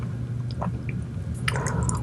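Close, wet chewing of crunchy cheese and a crispy cookie: soft squishy mastication runs steadily under a low background hum, with a few brief crisp crunches near the end.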